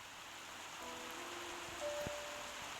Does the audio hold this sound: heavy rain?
yes